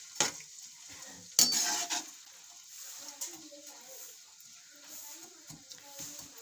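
Sliced onions, two medium ones cut into long thin strips, go into about 1.5 cups of hot oil, with pan and utensil clatter and stirring over a soft frying sizzle; a few sharp clinks stand out early on.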